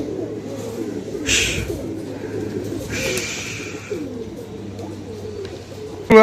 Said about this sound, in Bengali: এইখানে মোটামুটি যে কটা কবুতর আছে না সবগুলো কবুতর কিন্তু দেখতে সুন্দর অনেক